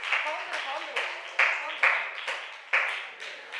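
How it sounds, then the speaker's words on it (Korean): A church congregation at a Sunday youth service applauds, with several surges of clapping that swell and fade over a few seconds, fairly close. "큰 박수 부탁드릴게요"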